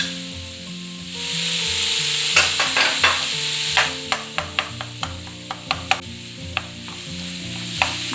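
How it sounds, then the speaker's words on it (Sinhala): Egg and bacon fried rice being stirred in a frying pan: a steady sizzle of frying under repeated scraping and clattering strikes of the utensil against the pan, close and fairly loud, with no talking. "දැන් මේක හොඳට මේ විදිහට කලවම් කරගන්න ඕනේ."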